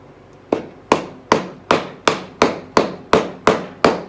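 A wedge is driven into a wooden spline joint with ten sharp, evenly spaced hammer blows, each a crisp close knock that decays quickly, with no talking.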